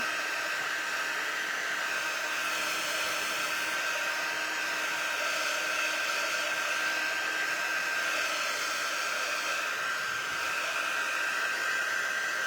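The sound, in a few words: hair dryer drying glued craft decorations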